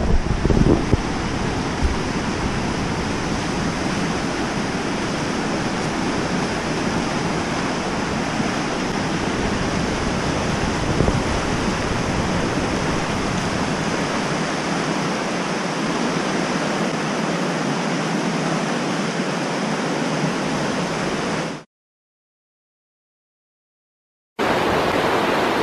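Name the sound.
rushing river at Fall Creek Falls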